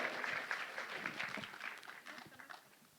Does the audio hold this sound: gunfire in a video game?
no